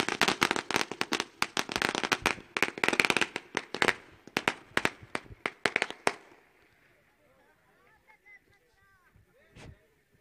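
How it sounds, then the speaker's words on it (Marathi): A rapid string of firecrackers bursts loudly at a welcome ceremony for an honoured guest, sharp cracks in dense succession for about six seconds, then faint voices and one last pop. "फटाक्यांच्या आतषबाजी"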